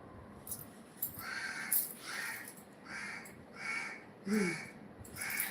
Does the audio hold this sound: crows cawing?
yes